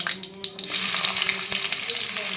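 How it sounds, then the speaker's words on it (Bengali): Black cumin seeds sizzle in hot oil in a kadai, a bright, steady crackling hiss with a few sharp pops and clinks, close and continuous. "ফোড়নে দিচ্ছি কতগুলো কালো জিরে"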